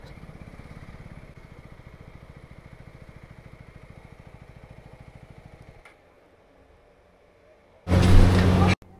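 A motorcycle engine runs steadily on a morning breakfast ride near the Sher Bengal hotel parking area, then cuts out into near silence before a short, loud burst of broadband noise.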